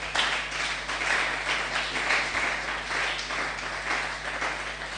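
Congregation clapping during a church service, a steady wash of applause from many hands with a constant low hum underneath, no voices over it.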